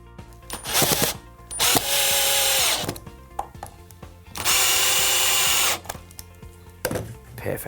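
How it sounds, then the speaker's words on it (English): A power drill drives screws into the leg of a coffee table built from wooden pallets, the piece clamped to a workbench; several loud whirring bursts of a second or so each, separated by brief pauses and small knocks. "And now to screw them into there"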